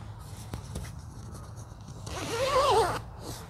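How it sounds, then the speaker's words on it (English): Zippers on a Cinch Hub tent vestibule are pulled open outdoors: a few short scratchy zip strokes, then a longer, louder zipping run near the end, with no talking. "So the first thing that you do is unzip the vestibule zippers."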